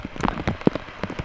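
Rain falling at a campsite while the sun shines, drops pattering irregularly and close on a tent or nearby surface.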